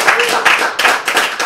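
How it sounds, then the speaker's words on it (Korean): A crowd claps together in a steady burst, dense and fairly loud, with a few voices briefly mixed in. "자, 박수!"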